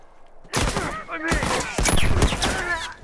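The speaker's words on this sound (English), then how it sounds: "Look out! He's got a rifle!" Rifle fire in The Last of Us erupts in rapid bursts of sharp, loud gunshots, one volley after another over about two and a half seconds, ringing against a lakeside setting in the game.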